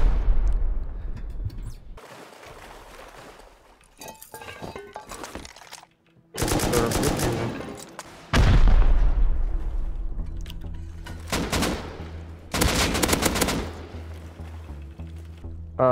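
Machine-gun bursts and gunshots crack out in loud, separated volleys during a Rust video game raid on a house built on water, with heavy thumps and rocket-like booms between near-silent gaps.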